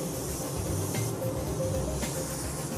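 A spray gun hisses steadily as it lays candy paint onto a car in a custom shop, a continuous airy spray with slight surges, close and fairly loud with no talking.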